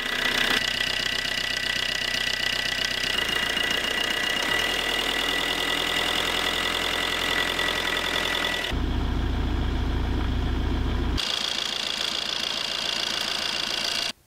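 A 2006 Opel Combo C with a 1.3 CDTI diesel engine idles steadily just after starting, a loud continuous rattling drone with a brief deeper rumble partway through, close to the microphone and with no talking.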